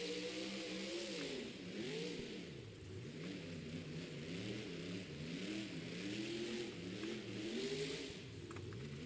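The Grave Digger monster truck revs its engine at a Monster Jam stadium event in Anaheim, a loud, continuous rising and falling roar with wavering pitch that runs the whole time under distant crowd noise.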